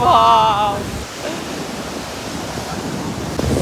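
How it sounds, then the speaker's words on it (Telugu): Sea waves roll onto the shore in a steady, broad rushing surge, with a voice heard briefly at the very start before the surf continues alone. "సముద్రం ఒడ్డులో ఉన్నాం ఫ్రెండ్స్"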